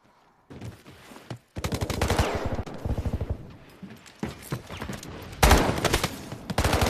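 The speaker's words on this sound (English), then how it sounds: "Opening shots coming in." Rapid bursts of automatic gunfire and scattered shots crackle loudly through a Delta Force esports match, dense volleys broken by short pauses, with a heavier burst near the end.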